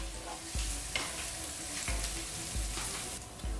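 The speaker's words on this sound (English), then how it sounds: "I'm going to add in the cumin first, green chili, ginger, garlic. Mix it well." Cumin, green chili, ginger and garlic sizzle steadily in hot oil for a samosa filling, with a spoon scraping and stirring the pan in several distinct strokes, close and continuous, no voices.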